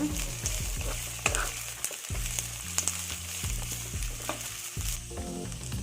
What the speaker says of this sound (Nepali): यो सबैलाई चाहिँ 2 मिनट जति यसरी नै चलाउँदै पकाउनुपर्छ।